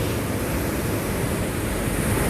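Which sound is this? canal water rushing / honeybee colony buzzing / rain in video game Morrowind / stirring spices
canal water rushing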